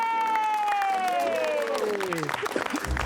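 Studio audience applause for a chef on a televised cooking competition, a burst of clapping and cheering beneath a descending electronic sound effect, with voices calling out in the crowd.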